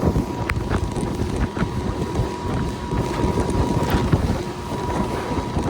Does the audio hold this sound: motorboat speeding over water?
yes